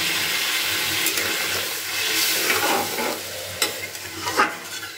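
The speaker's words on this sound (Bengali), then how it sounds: "এবার আমি এতে জল দিয়ে দিচ্ছি।" Water poured into a hot pan of fried spice masala for Bengali dhokar dalna with potato, a loud rushing hiss and sizzle that then settles into bubbling with a few stirring scrapes, close up and with no talk.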